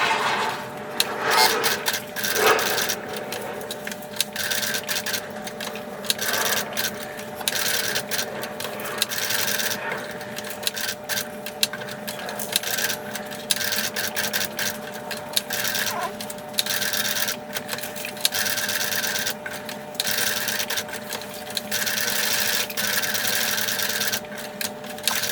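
A sewing machine runs steadily for a long stretch while stitching a patch onto fabric, its close, rapid needle clatter pausing briefly now and then before resuming.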